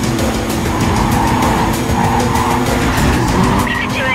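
Cars racing in Need for Speed Carbon, engines roaring loud and steady with tires skidding and squealing through turns, a dense continuous racing din.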